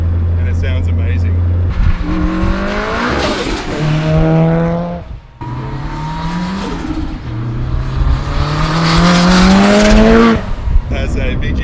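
A Nissan 180SX with a Tomei 2.3-litre billet stroker kit, Tomei head and 272 cams, making 660 hp, revs up loudly and close by in rising sweeps with brief breaks, while people talk over it.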